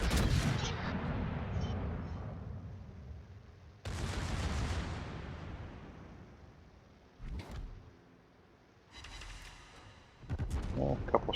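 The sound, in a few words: naval gun shells firing, from a video game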